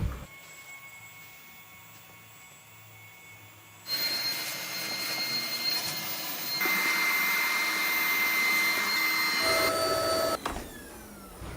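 A household vacuum cleaner switches on in a home partway through, its loud, steady motor whine rising in pitch and holding for several seconds before cutting off near the end, with no talking over it.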